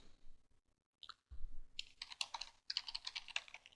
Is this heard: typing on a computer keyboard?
yes